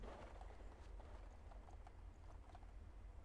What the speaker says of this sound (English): Is that a horse? Is that a horse? That's a horse!